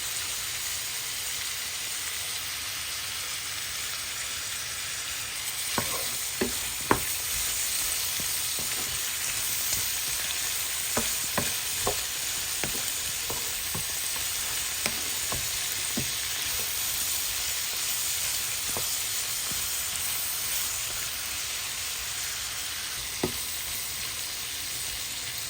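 Green chillies fry in a pan of chicken chow mein, giving a continuous bright sizzle. Scattered clicks and scrapes from stirring run through the middle stretch, with no voices.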